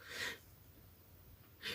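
A woman's sneeze indoors, heard as two short sharp bursts of breathy noise at the start and end, quiet and close with faint room hush between.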